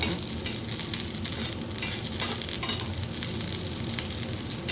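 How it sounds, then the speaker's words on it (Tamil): Ingredients for turkey berry chutney being sautéed in a little oil on a dosa griddle produce a steady dense sizzle and light stirring scrapes, close and even, with no speech. "வதக்கி விடுறோம் இந்த எண்ணெயில்"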